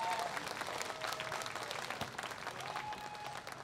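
An audience applauds to welcome a pansori singer onstage at a Korean traditional music festival, dense continuous clapping with scattered sharper claps and faint voices mixed in.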